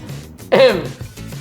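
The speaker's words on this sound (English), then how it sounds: "I had to clear my throat there, sorry." A single short throat clearing, close and fairly loud, between quiet pauses.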